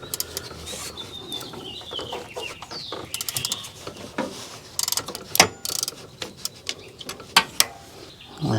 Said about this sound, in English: I'm going to use this ratcheting wrench